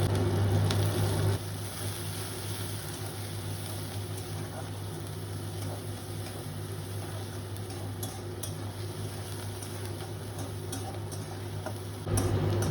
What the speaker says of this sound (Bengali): এবার আমি একে একে তেলের মধ্যে দিয়ে ভেজে নেব।